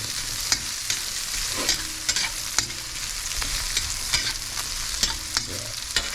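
Salmon miso sinigang ingredients sauté in a pan, with steady sizzling and frying and occasional sharp clinks of a spoon stirring against the pan, no voices.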